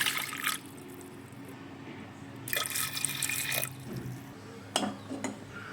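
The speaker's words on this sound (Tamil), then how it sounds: "இது வேக வைக்க நான் வந்து 2 கிளாஸ் தண்ணி ஊற்றிடுறேன்" Two glasses of water are poured into a pot of taro root for cooking, as a few short splashing bursts of liquid close by with quiet pauses between them.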